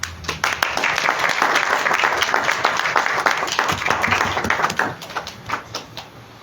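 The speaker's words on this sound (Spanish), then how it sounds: "Le damos la bienvenida y un aplauso" Audience applause welcoming speakers at a book presentation, a dense wash of many hands clapping at steady loudness that thins into scattered individual claps near the end.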